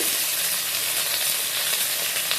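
Cumin, dried red chillies, asafoetida, curry leaves and garlic frying in hot oil for a vegetable kootu kuruma, a steady, close, dense crackling sizzle throughout with no talk.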